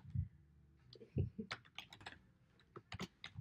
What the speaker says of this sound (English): ASMR with the keyboard